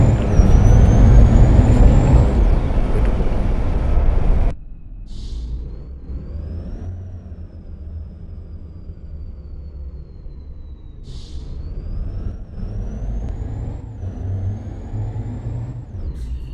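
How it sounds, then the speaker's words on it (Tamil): A TATA 16-wheel lorry under heavy load in the truck game Truck Master roars loudly at first, then drops to a lower steady engine drone with rising turbo whines and short hissing air bursts. "டாட்டா ரியல் வண்டி இப்படி தான் சவுண்டு வரும்ல, அந்த தர்போ சவுண்டு"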